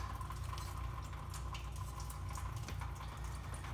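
Engine coolant from a 1998–2002 Camaro with an LS engine runs and drips steadily after the water pump hoses are pulled, a continuous faint trickle of liquid under low background hum, with no talk.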